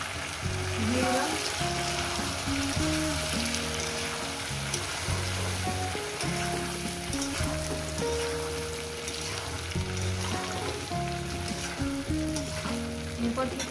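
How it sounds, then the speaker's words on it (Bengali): Mixed vegetables with brinjal and green chilies fry in oil, a steady crackling sizzle under a repeating tonal rhythmic pattern throughout, moderately loud and close. "7-8-9 মিনিট ধরে ভেজে নিয়েছি সবজিটাকে। এবার বেগুন আর কাঁচা লঙ্কা দিয়ে দিলাম।"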